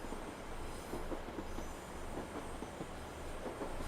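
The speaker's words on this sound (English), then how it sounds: "Bit of flange squeal." A British Rail Class 153 and Class 156 diesel multiple unit in Train Simulator 2021 rolls along the West Highland line, a faint steady rumble with soft clicking and thin high wheel flange squeal running continuously.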